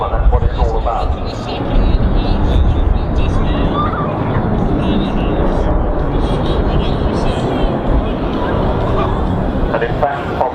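An Avro Vulcan bomber flies at the RIAT airshow, a loud, continuous broadband roar that lasts throughout, with a voice talking over it.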